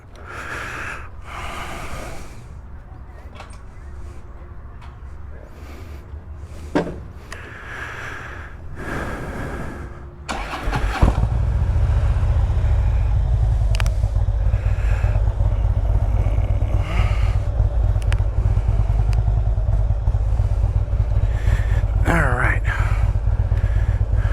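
Motorcycle engine starts at a beach and settles into a loud, steady running rumble after a quiet stretch of breathing and rustling, continuing to the end.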